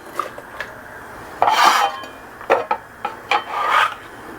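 Knife chopping celery stalk into chunks on a cutting board, several sharp irregular chops and scrapes close up, spaced unevenly with brief pauses.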